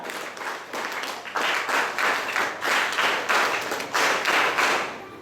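Audience applause at a closing ceremony of an alcohol de-addiction camp, a dense, steady wash of many hands clapping that swells in waves for several seconds with no voices over it.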